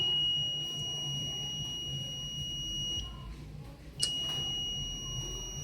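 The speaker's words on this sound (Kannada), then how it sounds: "ಈ ಹೆಲ್ಮೆಟ್ ನೆಲಕ್ಕೆ ಬಿದ್ದಾಗ ಈ ಥರ ಆತಪ್ಪ, ಈ ಥರ ನಮಗೆ ಸೌಂಡ್ ಬರ್ತತಿ." A smart helmet's alarm sounds after the helmet falls to the ground, giving steady high electronic tones over a low room hum, with a short sharp click near the end.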